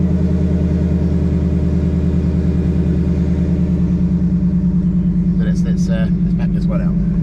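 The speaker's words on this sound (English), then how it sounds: "let's get it out of the garage before we wake all the neighbours up with the silly noise" A classic car with a loud exhaust idles with a steady low rumble while being backed out of a garage, with some voices or clatter appearing near the end.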